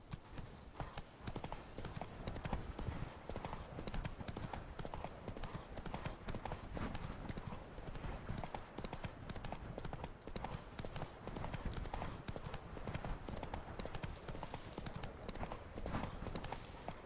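Roach the horse galloping in The Witcher 3, rapid rhythmic hoofbeats pounding steadily throughout at moderate loudness, with no pause in the stride.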